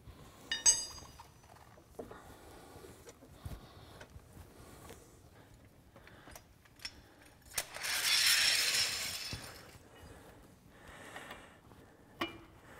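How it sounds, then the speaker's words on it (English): A car jack is lowered during a flat-tire change after the lug nuts are snugged: faint, intermittent mechanical clicks and rattles, with a brief hissing rush midway and a few soft knocks near the end. "we're going to lower the jack and get the tire on the ground"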